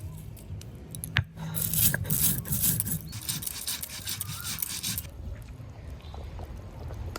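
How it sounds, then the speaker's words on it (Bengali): Fried coriander and onion are ground into a paste by hand, making a burst of rhythmic, close rubbing and scraping strokes that fades into quieter background noise. "এই যে পেঁয়াজটা ভেজে রাখছিলাম, পেঁয়াজটাও বেটে নেব"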